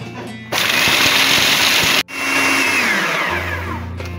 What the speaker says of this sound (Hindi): ये ब्लेंड हो गया और बड़ा ज़बरदस्त किस्म का हो गया होगा